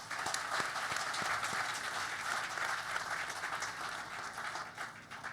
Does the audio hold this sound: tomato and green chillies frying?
no